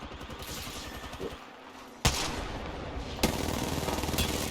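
Rapid automatic gunfire in Apex Legends, loud and sustained bursts with sharp cracks cutting in at intervals, no talk over it.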